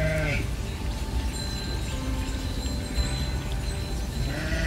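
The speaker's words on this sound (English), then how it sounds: "Look at all those fluffy sheep." Sheep bleat repeatedly over a dense flock ambience, wavering calls near and far layered over continuous background noise.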